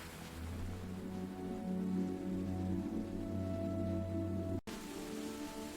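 Storm rain used as a story sound effect: a steady, dense patter of rain on a surface lasting the whole stretch, with a low tonal hum beneath and a very brief dropout near the end.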